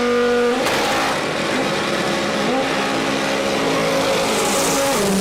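A drag racing car's engine roars loudly and close, rising in pitch as it accelerates, with a sustained high-revving drone and shifting tone throughout.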